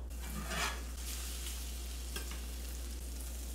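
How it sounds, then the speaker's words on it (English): French toast fries in a hot pan over medium-low heat, a steady close sizzle with brief louder crackles and light scraping, alone with no talk. "placed it into our hot pan under medium to low heat"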